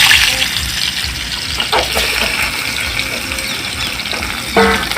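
Pieces of bitter gourd fry in hot oil in a home kitchen, a loud, constant sizzle with bubbling and occasional stirring scrapes close by.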